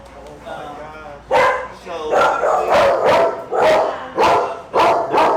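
Several dogs bark loudly and repeatedly at Front Street Animal Shelter, a city's main animal shelter, in a rhythmic run of close, sharp barks after a brief whimpering lead-in.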